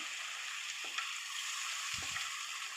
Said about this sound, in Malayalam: സോയാ ചങ്ക്സും കടലയും കൂടി ആ ഗ്രേവിയോട് കൂടി തന്നെ ഇതിലേക്ക് വേവിച്ച് കൊടുക്കാം ഇനി എല്ലാം കൂടി നന്നായിട്ട് മിക്സ് ചെയ്തെടുക്കാം